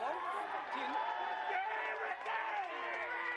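Spectators at a muddy schoolboy 1st XV rugby match, Palmerston North Boys' High against Tauranga Boys' College, shout and cheer in a steady, moderately distant clamour, with voices calling out over it.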